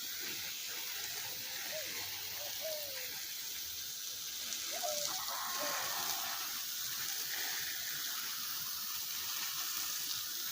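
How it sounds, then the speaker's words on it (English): Water hisses steadily as scallion plants in a home yard garden are watered, a continuous even spray, with a few faint bird chirps in the background. "Get some water on the scallion them."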